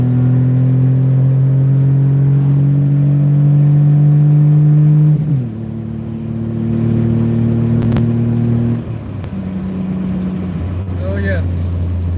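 A car engine fitted with a new exhaust header revs hard, its deep droning note climbing steadily, dropping with each gear change and pulling again, loud and close, with a brief higher whine near the end.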